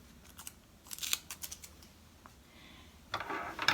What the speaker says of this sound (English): now I'm going to use these little scissors to cut around this angel